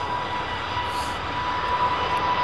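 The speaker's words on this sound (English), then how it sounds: "like this 777-200 that's just lining up" A Boeing 777-200 lining up at London Heathrow Airport, its jet engines producing a continuous broadband roar with a faint steady whine, close and constant for the whole stretch.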